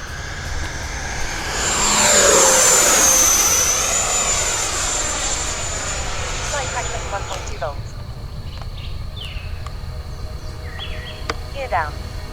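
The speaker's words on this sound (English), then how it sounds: "You can be very, very aerobatic with this jet" An E-flite F-16 80mm electric ducted-fan RC model jet makes a high-pitched whine that swells to a loud pass and fades into the distance, with a voice talking over it throughout.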